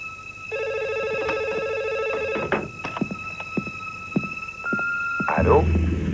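A telephone bell rings loudly in repeated bursts in an indoor scene, followed by a few clicks and handling as the receiver is picked up.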